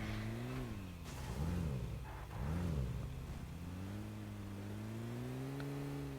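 A car engine in the PUBG Mobile video game hums steadily, then revs up and down twice in quick surges before settling back into an even, droning cruise.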